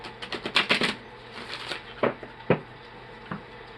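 Crisp bursts of tarot cards being riffled and shuffled, a quick flurry at first, then a few separate snaps and flicks, close and fairly loud.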